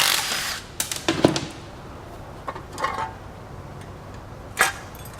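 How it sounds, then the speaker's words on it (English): Hammer blows drive a socket onto a blown GM 5.3 Vortec LC9 aluminum Gen4 V8 during a teardown: about five sharp, irregular knocks spread over several seconds against a quiet background. "This one I need to pound in."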